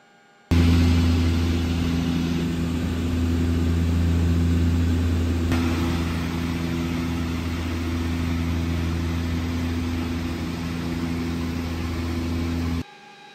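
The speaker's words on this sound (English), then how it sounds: "Power is set. Left and right, two good engines." Twin turboprop engines of a de Havilland Twin Otter running at takeoff power, a loud steady drone with strong low harmonic hum and broadband roar that starts abruptly and holds for about twelve seconds before cutting off.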